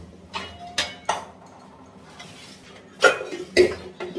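Metal cooking pots and utensils being arranged in a home kitchen: a few scattered clinks and knocks, two louder clanks near the end, close by with no talk.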